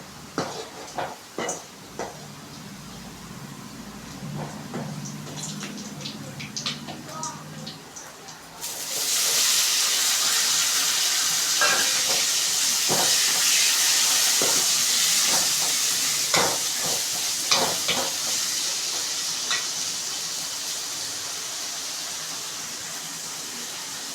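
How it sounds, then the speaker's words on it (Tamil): Chopped tomatoes hit a pan of sautéed onions for thakkali thokku kulambu. After a few quiet clicks and stirs, a sudden loud, sustained sizzle and hiss begins, with intermittent scraping of a spoon against the pan. "இப்போது கட் பண்ணி வச்சுருக்க தக்காளி போட்டுக்கலாம்."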